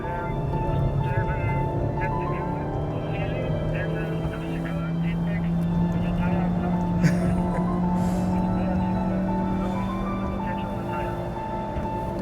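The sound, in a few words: car engine hitting the rev limiter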